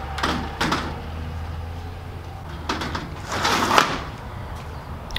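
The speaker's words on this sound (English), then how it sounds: "Let me go lock my door." A bedroom door is shut and locked near a backyard trampoline, giving a few faint clicks and knocks spread out among quiet room noise, with a louder latch sound near the end.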